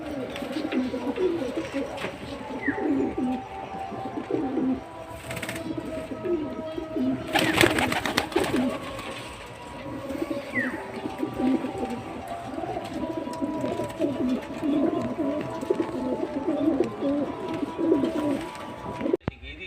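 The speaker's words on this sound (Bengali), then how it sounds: "দেখুন পায়রা একসঙ্গেই আছে" Pigeons coo steadily throughout, a continuous chorus of low repeated calls from a flock close by, with a brief louder burst of noise partway through.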